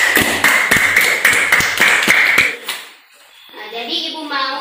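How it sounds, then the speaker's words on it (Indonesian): Children in a classroom clap in unison for a classmate during a micro-teaching lesson, a close, rhythmic run of sharp claps that stops abruptly, after which a voice speaks. "tepuk tangan untuk Ilham Ramadan"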